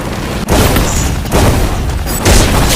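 Bomb explosions in a mobile shooter game, loud sustained booming blasts that roll one into the next, close and dense with no pauses.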